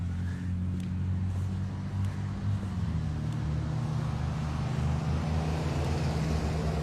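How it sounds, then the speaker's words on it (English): A heavy truck rumbles past in road traffic, a loud, sustained low drone alongside passing cars, with no talk over it. "The loud truck over there."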